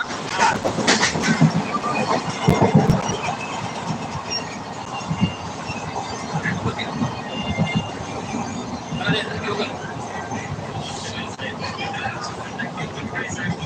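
A moving train rattles and rumbles steadily throughout, with faint voices chatting underneath the continuous clatter.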